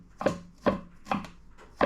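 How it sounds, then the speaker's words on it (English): A knife chops garlic on a cutting board in four steady, evenly spaced thuds, close and clear with no talking. "Finely chop"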